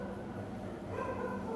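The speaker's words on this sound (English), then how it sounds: "dogs in our locality have spotted some ghost or something. They won't stop barking." Neighbourhood dogs bark faintly in the distance, steady and unbroken against a low background hum, with nobody talking.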